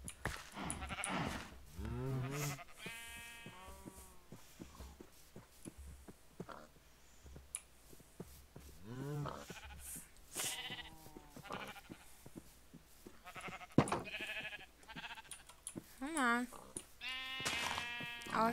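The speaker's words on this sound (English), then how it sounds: "All sheep will come in here." Sheep in Minecraft bleat repeatedly, close and clear, several wavering cries scattered over the stretch amid clicking game sounds and soft footsteps.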